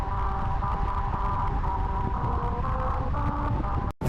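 Car tyres roll over a musical road whose grooves were cut slightly off, producing an out-of-tune melody. Droning, wavering tones sit over a constant rumble of road and wind noise, then a brief dropout near the end.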